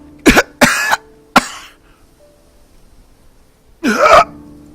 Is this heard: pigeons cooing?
no